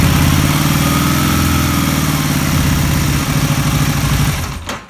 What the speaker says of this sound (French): Ça démarre.